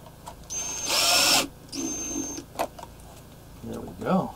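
A power drill drives screws into a speaker cabinet, with two whirring bursts, the first longer and louder, followed by clicks and brief handling noise, with a voice speaking nearby.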